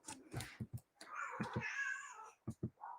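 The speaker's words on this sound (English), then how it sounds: "apologies as well, my cats are hungry" Hungry house cats meow indoors. There are several nearby meows, one long drawn-out cry in the middle, and short soft calls and quick thumps around them.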